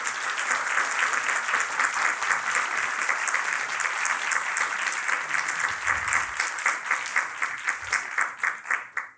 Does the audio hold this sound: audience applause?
yes